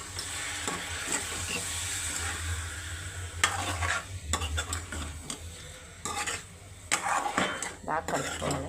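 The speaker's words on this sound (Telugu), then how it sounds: "ఇప్పుడు ఇందాక క్లీన్ చేసుకుని పక్కన పెట్టుకున్న చేపలు అందులో వేసుకుంటున్నాను" Cleaned small fish for a raw-fish curry go into a hot pan and are stirred, giving a steady sizzle under repeated clattering scrapes of a spoon against metal.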